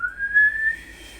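A person whistling a single rising, sustained tone that wavers slightly before fading out, clear and close, with no other sounds.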